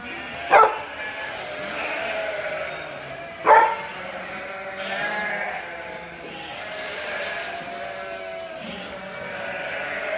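Ewes at lambing time in a barn, giving two sharp nearby bleats spaced a few seconds apart over a low, steady background of quieter animal noise and shuffling.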